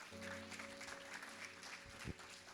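Church congregation applauding during a Spanish-language worship service, a steady wash of clapping across the whole stretch with a low hum beneath and a brief louder thump near the end.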